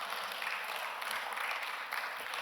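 A church congregation claps during a Korean worship service, a steady, fairly faint patter of many hands heard from a distance.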